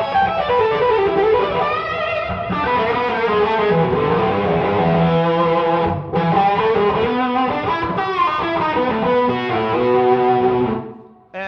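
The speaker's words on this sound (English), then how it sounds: "It's kind of based on an EL34 Dumble style amp," Electric guitar played through a Carol Ann JB100 EL34 Dumble-style amp with Boss digital reverb, a continuous expressive passage of bright, sustained notes and chords, loud and up close, with a brief break midway and fading at the end.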